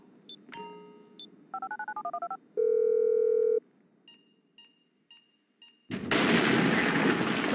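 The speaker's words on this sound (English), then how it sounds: "I'm making the call." Phone dialing in a Grand Theft Auto game: a series of short keypad tones and beeps, a held dial tone, then a string of brief blips before a loud burst of noisy game sound takes over.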